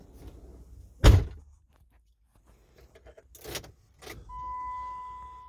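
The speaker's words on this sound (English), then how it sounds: "We'll shut the door so it's not beeping constantly." A sharp thunk of a 2002 Chrysler 300M car door slamming shut, followed by quieter clunks and a sustained electronic tone near the end.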